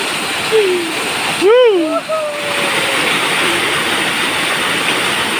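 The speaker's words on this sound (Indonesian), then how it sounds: "Air terjun Aceh Selatan." Batee Meucanang waterfall at Labuhan Haji Barat in South Aceh roars as a steady broadband rush of falling water, with a few brief rising whistle-like tones and voices over it.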